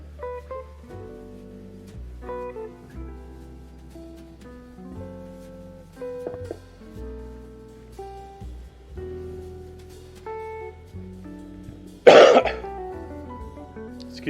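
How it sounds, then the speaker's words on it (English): A single loud, harsh cough bursts out near the end, sharp and close, over steady background music in a home kitchen while a casserole is being prepared. "Excuse my cough, I apologize for that."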